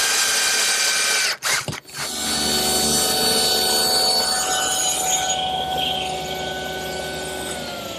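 A power tool drives screws through the bottom of an outdoor cupboard's wooden center frame, its loud sustained whine briefly cut off by a couple of quick stops before running on steadily and fading slightly.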